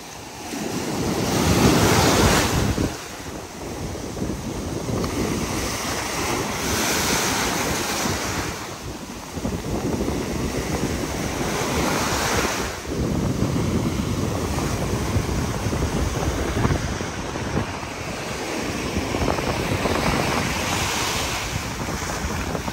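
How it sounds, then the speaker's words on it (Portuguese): Rough ocean surf at Barra Velha beach in Santa Catarina, with heavy wind buffeting the microphone and waves rolling and crashing in repeated surges, loud and close, with no voices. "como o mar tá muito agitado"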